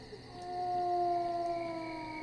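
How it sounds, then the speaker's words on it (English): Distant howling drifts across an open area in the game Stalker: The Way to Pripyat, a faint, long, wavering wail rising and sustained over a low background hum. "I'm definitely hearing some howling in the distance"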